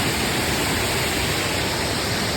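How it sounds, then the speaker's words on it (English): Small waterfall beside the Appalachian Trail near Mount Moosilauke, a steady broadband rush of falling water, close and loud, with no speech over it. "Pretty little waterfall."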